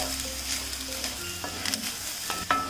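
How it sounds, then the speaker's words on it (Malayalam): Parboiled rice dry-roasts in a pan for avalose, a light, close rustling sizzle with scattered small pops and clicks as the grains are stirred, with no voices. "നമ്മളിങ്ങനെ വറുത്ത് കൊടുക്കുമ്പം ഇടയ്ക്കിടയ്ക്ക് പൊട്ടുന്ന സൗണ്ട് കേൾക്കും കേട്ടോ, അതായത് ഈ അരി പൊട്ടുന്നതാണ്."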